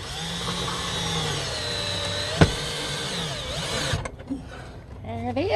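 A power drill whirs steadily while driving screws, with a sharp click midway, then cuts off and leaves rustling handling noise and a voice speaking.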